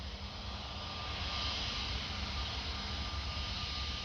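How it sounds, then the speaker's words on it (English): Airliner jet engines roar at Orly airport, a steady broad rushing drone heard at a moderate distance, fairly faint and unchanging over a few seconds. "And this is Airbus A320."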